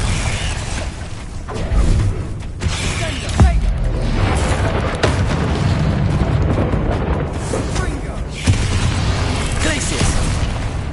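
Confringo blast spells explode in Hogwarts Legacy amid continuous combat noise, with several heavy booms and sharp bursts at irregular intervals, and a voice calling out during the fight.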